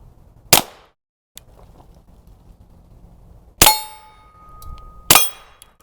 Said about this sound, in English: the sound of the bullet hitting steel is the loudest part of this, which is what's great about suppressed firearms